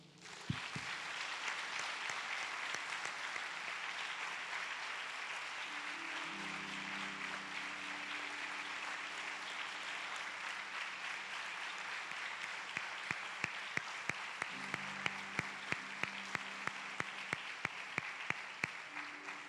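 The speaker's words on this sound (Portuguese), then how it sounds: "vamos levantar as nossas mãos e vamos aplaudir a Ele" A church congregation applauds at length during a Portuguese-language service, a soft, distant, continuous patter of clapping with a low hum underneath, and a few sharper nearby claps appearing toward the end.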